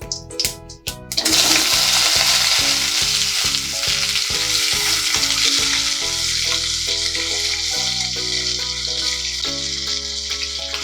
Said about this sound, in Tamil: இது எண்ணெயில் கொஞ்ச நேரம் ஃப்ரை ஆகட்டும்.